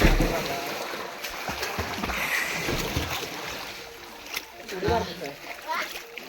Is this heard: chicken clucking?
no